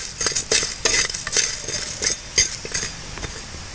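Urad dal sautéing in a pan, stirred with a ladle that scrapes and taps in a steady rhythm over a bright, close sizzle.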